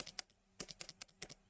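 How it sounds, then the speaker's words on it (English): A computer keyboard clacks close and quiet, with a quick run of sharp key and space bar presses in an uneven rhythm. "if I turn the microphone right up, and you listen to the space bar"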